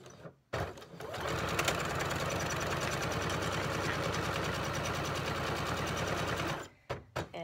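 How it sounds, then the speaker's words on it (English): A sewing machine set to a 2.5 stitch length stitches quilt block pieces at a steady, fast mechanical whir. It starts after a brief handling noise and stops abruptly near the end, with no talking over it. "But we are going to sew."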